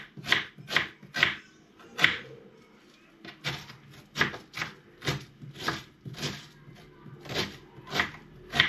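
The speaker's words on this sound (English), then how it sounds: "We are starting to preparation chopping onion." Knife chopping an onion on a board for Turkish lentil soup: about fifteen sharp, evenly spaced thuds in a steady rhythm, close and fairly loud, with no voices.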